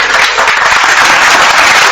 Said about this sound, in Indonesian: masih ada tepuk tangan itu